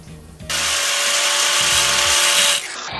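A surface roughness measuring machine starts a profile test. A sudden loud, steady mechanical whir with a faint tonal whine begins after a quiet moment, holds for about two seconds, then cuts off.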